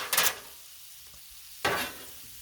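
Vegetables for a shrimp stir fry hitting a Blackstone griddle set to medium-low, two short bursts of scraping and sizzling a second and a half apart, close and moderately loud, with a faint sizzle in between and no talking.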